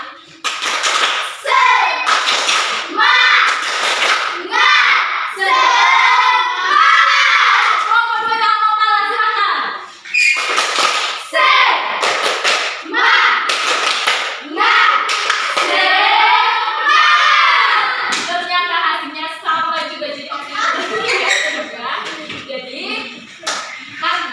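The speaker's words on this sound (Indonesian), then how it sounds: "Tepuk semangat." Schoolchildren in a classroom do a rhythmic spirit clap, sharp clap bursts alternating with loud chanted children's voices in a repeating, patterned cadence, close and energetic.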